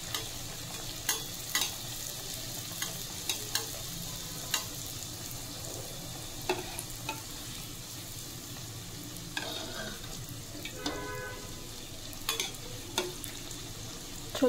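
Karanji, or gujiya, fry steadily in hot oil over a low flame, a continuous soft sizzle broken by scattered crackles and light stirring clicks, with no talking.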